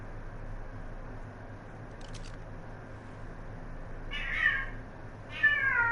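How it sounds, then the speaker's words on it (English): A domestic cat meows twice near the microphone, two short, clear meows toward the end over a quiet steady background hum. "My cat is now making an appearance in my live stream, so enjoy that."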